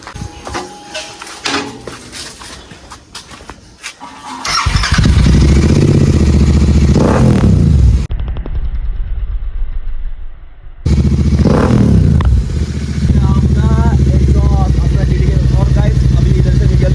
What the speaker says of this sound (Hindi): अभी सुनाएंगे आप लोगों को अपना एग्जॉस्ट का यार साउंड है अपना बाइक पे